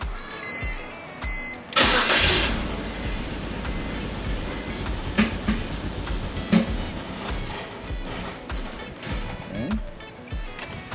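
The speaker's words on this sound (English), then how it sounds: "Still got a rough idle." BMW 330Ci engine idling roughly with a misfire, an uneven low rumble with irregular knocks and dips, heard alone without talk.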